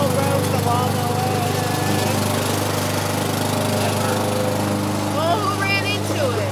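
A gas lawn mower runs steadily and loudly up close while mowing a lawn, its engine drone continuous throughout with brief voices faintly over it.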